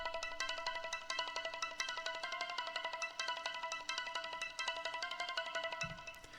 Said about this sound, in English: where a slightly tweaked version of that same ARP sound